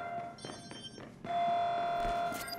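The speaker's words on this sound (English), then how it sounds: "Alarm has been triggered." A security alarm rings in the video game Watch Dogs 2, a steady loud electronic tone with pulsing high overtones that swells midway and holds.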